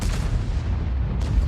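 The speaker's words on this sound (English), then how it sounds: "So Lee just being careful here, and again, it takes a hit from the Object that time, but he returns fire." A tank gun fires in a tank video game, a heavy booming shot with rumbling low-end decay filling the short moment, loud and close with no talking.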